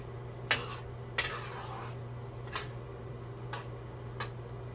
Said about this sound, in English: And let's get it stirred up real good.